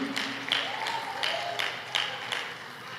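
A church congregation claps in praise during a worship service, a steady run of rhythmic clapping with regular louder beats about every half second, moderately close, with faint voices underneath.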